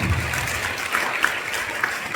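A crowd applauding steadily at a school Independence Day celebration, dense clapping throughout with no voices on top.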